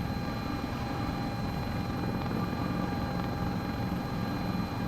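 Sikorsky S-76 helicopter flying in a flight simulator game, a steady dense rotor and turbine drone with a faint whine, constant and unbroken throughout.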